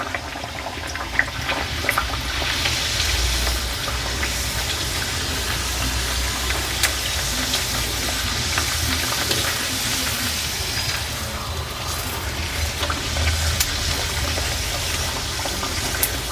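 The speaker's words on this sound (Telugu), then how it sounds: "ఇవి డీప్ ఫ్రై చేసుకోవడం. ఇప్పుడు చూడండి, మంచిగా నూనె మంచిగా వేడైపోయింది మనకి." Kesari puris deep-frying in hot oil make a dense, continuous bubbling crackle close up, steady and fairly loud throughout with scattered sharp pops and no talking.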